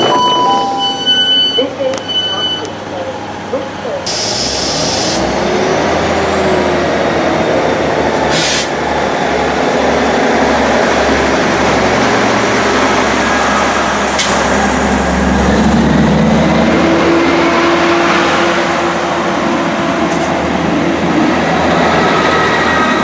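A train pulls into North Queensferry Station with a loud, continuous rumble of wheels and carriage noise heard from on board, with a rising whine and brief hisses and clunks as it slows, and no speech.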